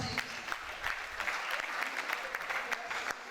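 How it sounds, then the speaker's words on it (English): An audience at a Senior Staff Association of Nigeria Polytechnics capacity building workshop claps to welcome a guest speaker, with scattered, fairly faint hand claps of moderate density and some background voices. "With a round of applause"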